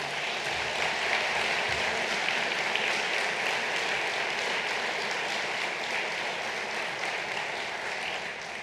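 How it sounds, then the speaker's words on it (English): An audience applauds the provost during a university president's State of the University address, a broad, steady wash of clapping from a large crowd heard at a moderate distance, sustained throughout. "Every applause for her is richly deserved, let me tell you."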